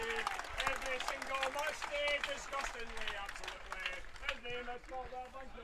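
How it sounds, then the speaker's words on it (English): A live football match between Clydebank and Largs Thistle, a crowd calling and shouting in overlapping voices with scattered claps, heard from a distance. "Sorry if you're hearing any obtuse language coming from the crowd there."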